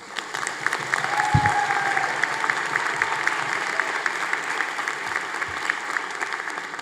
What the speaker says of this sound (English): Please, another big round of applause for all of them.